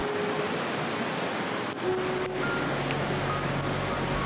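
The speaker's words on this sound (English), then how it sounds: "listening to the never-ending cascade of water and the singing of insects" Steady, continuous rush of cascading water beside a hiking trail near Split, Croatia, a dense broadband wash heard alone with no talk and no break in intensity.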